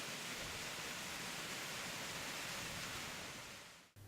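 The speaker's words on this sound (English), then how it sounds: "Slabs coming down the cascade are all different sizes and groupings, the idea being that the sound of water varies." Water spills steadily down a garden cascade of stone slabs in varied sizes and groupings, a dense, even rushing wash that holds constant for several seconds before cutting off abruptly.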